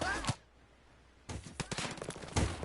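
Gunfire in a PS4 video game: a single shot, a pause, then a rapid burst of repeated shots close by, with a voice briefly talking.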